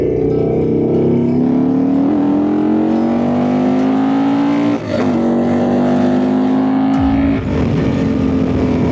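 A Harley-Davidson V-Rod motorcycle engine growls close by, its pitch climbing steadily as it revs, with brief gear-shift dips before the throttle builds again.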